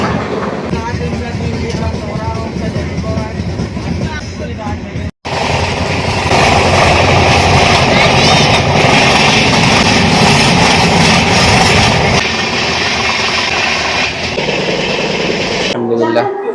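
Passenger train in Madhya Pradesh running at full speed, a loud continuous rumble and rush of wheels and wind heard from on board, briefly cut near the five-second mark, then roaring steadily on.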